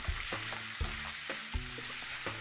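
Smoked salmon pasta sizzling steadily in a pan while being stirred, with several soft knocks of a utensil against the pan over a constant frying hiss.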